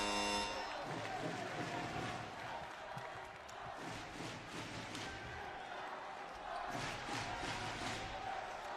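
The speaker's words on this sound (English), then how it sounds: "Look at this crowd, though." A packed basketball arena crowd in Yokohama at a Japan versus Chinese Taipei World Cup qualifier roars and chants, with ball bounces and sneaker squeaks, loud and continuous, dipping briefly midway before swelling again.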